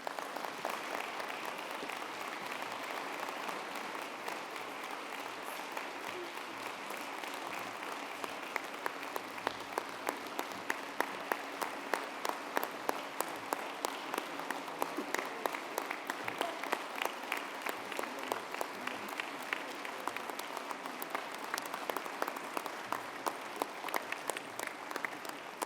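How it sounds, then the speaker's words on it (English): Sustained audience applause at a Life Learning Center member story event, a dense wash of many hands clapping that carries on steadily for a long stretch, moderately distant, with no talk over it. "If everybody could please give Regenta another round of applause"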